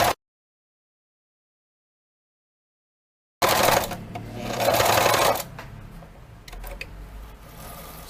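A sewing machine stitching fabric on a zipped pouch with a mirror runs in a close, loud mechanical burst after a long silence, then drops to a lower hum with scattered clicks as the needle stops down for a turn.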